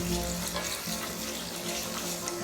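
Chopped onion frying in a hot pan for Punjabi chole, a loud, steady close-up sizzle with faint stirring, no voices.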